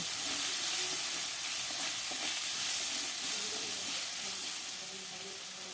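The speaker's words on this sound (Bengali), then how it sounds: "লবণ হলুদ দিয়ে আলু আর গাজরটাকে একটু ভেজে নেব" Potatoes and carrots fry in oil with salt and turmeric, giving a steady, soft broadband sizzle with faint stirring scrapes, fading slightly toward the end.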